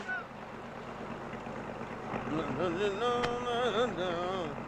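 A boat moves across water with a steady, broad wash of engine and water noise, and a voice rises over it in the second half.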